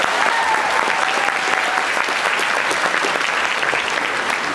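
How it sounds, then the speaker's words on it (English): Steady applause from an audience at a 2015 Fan Expo Q&A panel, dense clapping that holds at an even level throughout without a break. "Give her a round of applause."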